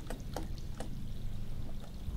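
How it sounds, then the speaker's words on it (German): Water sloshing and splashing in the ARK survival video game, a soft continuous liquid wash with a few brief bright splashes over a low rumbling background. "Also das ist nur das Wasser, was da schlabbert, oder?"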